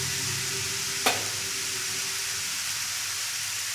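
Road-style chowmein stir-frying in a home pan as vinegar is added: a steady, loud sizzle and hiss fills the clip, with one brief sharp click near the start and no talking.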